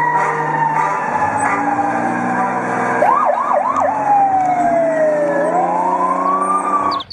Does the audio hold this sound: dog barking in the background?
no